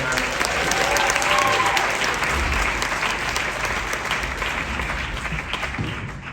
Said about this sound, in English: Ladies and gentlemen, round of applause for our volunteers one more time.